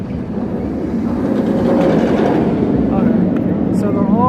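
A roller coaster train at Six Flags America rolls past in the evening with a steady, rising rumble that fills the whole stretch, as a person talks over it.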